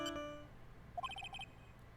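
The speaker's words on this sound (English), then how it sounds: "What kind of ringtone is that?" A phone ringtone in the Ace Attorney video game: a quick, bright run of electronic chirping tones, close and clear, preceded by a brief voiced sound.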